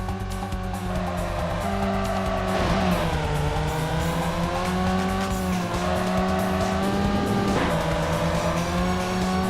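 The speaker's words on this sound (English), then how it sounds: "because this is an old PS1 game, all the cars relatively sound the same" Engine drone and tire squeal from the PS1 drifting game Touge Max 2, a 280-horsepower all-wheel-drive car, loud and continuous, its pitch dipping and climbing with each gear and slide.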